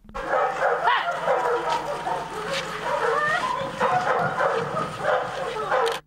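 A Belgian shepherd police dog barks repeatedly during a demonstration of detaining a suspect, its barks mixed with a voice talking over the scene and steady background noise.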